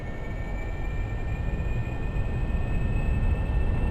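Airplane engine in Kerbal Space Program throttled up for takeoff, a steady, loud, rushing roar with thin whining tones held throughout, alone without talk.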